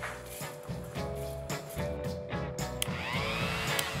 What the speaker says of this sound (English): Next, I'm adding to the grinder the roasted garlic cloves, roasted peanuts, and roasted sesame seeds.